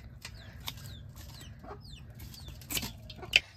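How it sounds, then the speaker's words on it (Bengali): Domestic desi chicken at a Bangladeshi village home clucks in short, soft bursts over a low background rumble, with a sharper squawk near the end. "এটা আমাগো বাড়ির দেশি মুরগ।"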